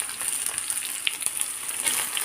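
Onions and beans fry together in a pan for chicken pulao, making a soft, steady sizzle with scattered light crackles and no talking.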